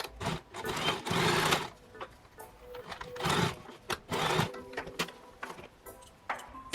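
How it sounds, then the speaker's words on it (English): A sewing machine stitches along the outer seam lines of a top being reworked with shoulder ties, running in several bursts of rapid mechanical whirring with short pauses between, close and fairly loud. "I'm just going to follow the stitch lines on the outside of the garment"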